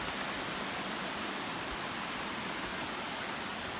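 A small waterfall in Khao Phanom Bencha National Park, Thailand, pours continuously, a dense even hiss with no pauses or other sounds.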